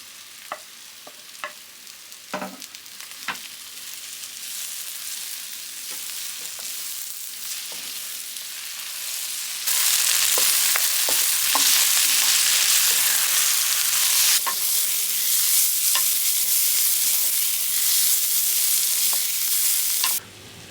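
Onion and spring onion fry in a pot over medium-low heat with a steady close sizzle and occasional spoon knocks, and the hiss grows louder partway through.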